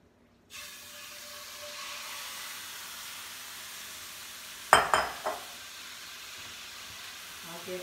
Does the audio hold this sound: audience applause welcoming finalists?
no